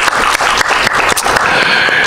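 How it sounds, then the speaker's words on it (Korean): A church congregation claps briefly to celebrate an elder's birthday, a short burst of close, brisk handclaps lasting about two seconds. "우리 이런 마음 가지고 좀 박수하면 네."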